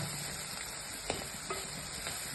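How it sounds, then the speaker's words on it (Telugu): Dried shrimp frying in a pan for a dried shrimp and egg curry, a steady low sizzle with a few faint scrape-like clicks of stirring, no talking. "ఇలాగే ఫ్రై చేసుకోవాలి ఎండు రొయ్యలు"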